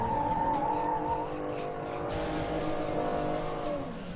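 A BMW Z4 with ESP switched off sliding around a racing circuit in Chennai, tires squealing loudly in a sustained shriek over the steady engine drone, moderately close.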